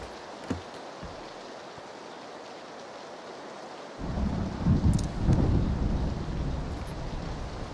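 Thunder from lightning in the PUBG video game: quiet rain hiss, then a deep rumbling roll breaks in halfway and swells loud before easing, with no talk.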